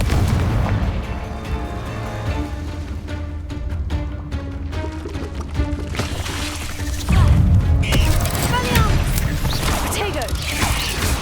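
Confringo fire-blast spell explosions in Hogwarts Legacy amid combat, dense booms and crackling impacts with a heavy blast surge midway, loud and continuous over game music and effects.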